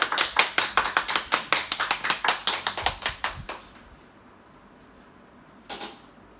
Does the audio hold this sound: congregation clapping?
yes